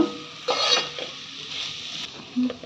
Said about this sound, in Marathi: वाटण तेलामध्ये फ्राय करून घ्यायचं तेल सुटेपर्यंत